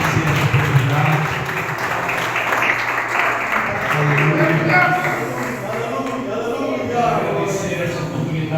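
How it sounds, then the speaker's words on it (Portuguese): A church congregation at an evangelical anniversary service applauds, dense clapping continuing throughout alongside voices and what sounds like music or singing underneath. "Pode aplaudir o Senhor."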